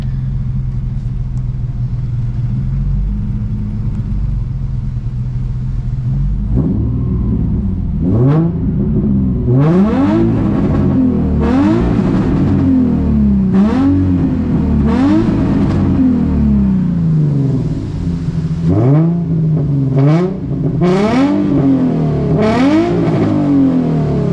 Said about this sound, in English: I'm gonna rev her a few times, let you guys hear the exhaust